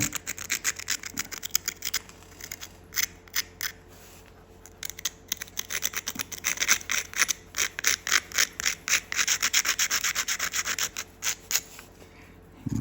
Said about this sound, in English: Grind this edge out here where your tool's going to be going.